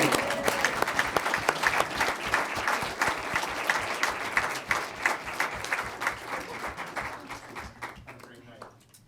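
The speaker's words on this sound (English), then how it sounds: "And thespians always like a round of applause." An audience at a school board of education meeting applauds student thespians with dense, lively clapping that slowly fades toward the end, with a voice faintly present underneath.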